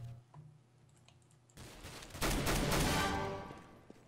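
Gunfire in Counter-Strike: Global Offensive: after a quiet stretch of faint clicks, loud shots burst in abruptly and roar densely for about two seconds before fading.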